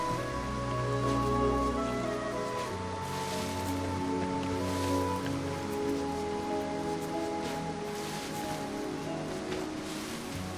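A waterfall in the fantasy platform game Ori and the Will of the Wisps rushes as a steady, soft hiss of falling water under quiet, sustained background music.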